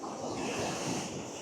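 Ocean surf under rough waves at the shore, a steady loud wash of breaking water mixed with wind buffeting the microphone, continuous with no pauses.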